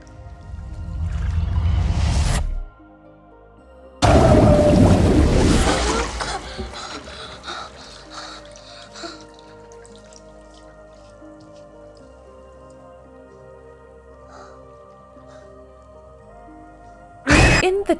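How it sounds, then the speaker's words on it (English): Water runs and splashes during rinsing in two loud bursts, the first lasting a couple of seconds and the second longer, trailing into drips and faint clatter, with a brief splash at the end. "Rinsing."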